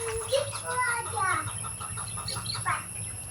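Lovebirds chirp and twitter in short bursts over a steady low hum, with some faint background voices.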